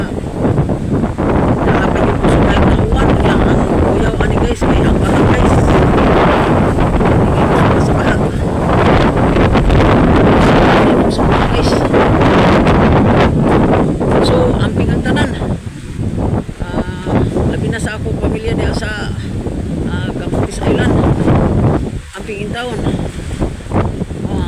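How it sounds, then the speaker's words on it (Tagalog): Strong typhoon wind roars loud and continuous against the microphone during flooding, a dense unbroken buffeting rush with brief dips near the end. "Grabe kusog guys sa hangin niya."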